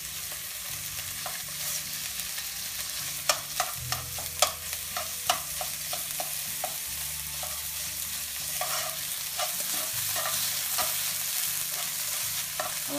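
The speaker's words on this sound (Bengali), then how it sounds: "আমাদের মাছ এবং পেঁয়াজটা ভাজি হয়ে গিয়েছে" Salmon and onion fry in a pan under a steady broad sizzle, with repeated spatula taps and scrapes, sometimes in quick bursts, across a long stretch of cooking.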